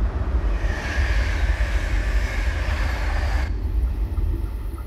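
A loud, continuous rumble and roar from a Silver Train formation on the Chiltern Mainline route in a train simulator game cuts off sharply near the end into quieter low noise.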